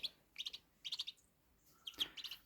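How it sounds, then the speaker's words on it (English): Three tiny ducklings alone on a farm peep in quick, faint bursts of high chirps, with short pauses between the clusters. "And 3 little ducklings. They are so sweet."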